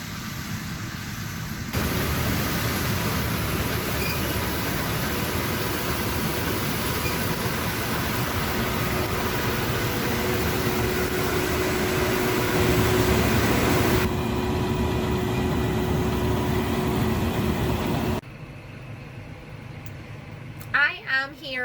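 A tractor engine drones loudly and steadily while pulling an empty grain trailer to meet a combine during the barley harvest, easing to a quieter hum near the end.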